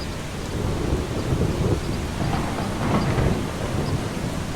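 Steady rain pours down during a thunderstorm in the game Eastshade, with a low rolling rumble of thunder swelling and fading beneath the dense hiss of falling water, close and enveloping, with no voices.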